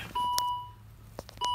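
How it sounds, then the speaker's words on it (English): A car's steady electronic chime tone sounds with the ignition on, alongside a few short beeps, quiet and indoors with a faint hum underneath. "The beeping you're hearing in the background is I have the ignition on."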